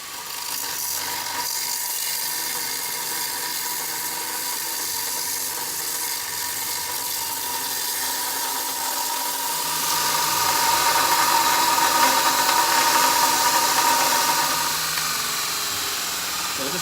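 A power grinder works hot metal while a rivet tool is forged in a beginner blacksmithing shop, a steady whirring grind that swells louder and harsher partway through, close and continuous without speech.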